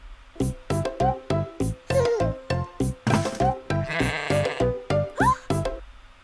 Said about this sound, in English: clearly this sheep is not happy and trying to get away